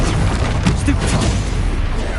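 Stupefy spell cast in the Hogwarts Legacy video game: a sustained loud rumble with a few crackling impacts, dense combat noise throughout, no voices over it.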